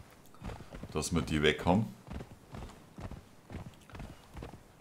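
Horse hooves clip-clop in a quick, even rhythm as a mount is ridden in Conan Exiles, close and moderately loud, while someone talks briefly over the start of the riding.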